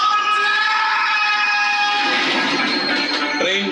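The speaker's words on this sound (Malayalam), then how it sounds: "ട്രെയിൻ" A train sequence from the film Theeran Adhigaaram Ondru, with a loud, steady rumble and bright tonal ringing that holds throughout, near and dense, ending with a short sharp burst of noise.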